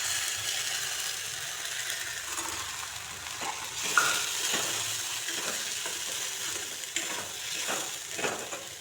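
Green pea paste frying in a pan, a steady hiss of sizzling with scraping stirs and light clicks of the utensil against the pan, close and moderately loud, with no voices.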